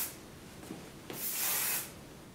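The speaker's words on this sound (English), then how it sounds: "I'm going to take a little bit of my KMS medium hold hairspray just to smooth this down a little bit and get some hold." KMS medium hold hairspray sprays onto hair in a soft hissing burst lasting about half a second, preceded by light rubbing and small clicks.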